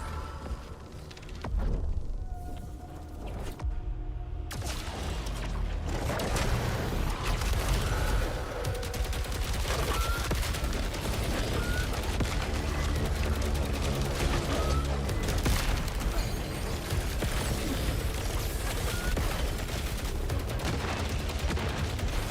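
Sustained gunfire from a shotgun and a smart rifle in the video game Saros, with dense bursts and booms rolling continuously after a quieter opening, loud and near, mixed with game sounds.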